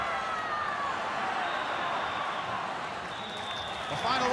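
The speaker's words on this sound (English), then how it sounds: "The final whistle. And applause all around the ground now for that great Portsmouth comeback" A football stadium crowd in a 1989 Portsmouth v Manchester United match applauds at the final whistle. Dense, continuous clapping and crowd roar come from all around at a steady level, with faint whistling over it.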